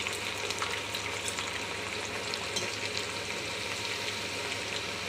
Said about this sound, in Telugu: గోల్డ్ వర్ణం వచ్చేదాకా వేయించుకోవాలి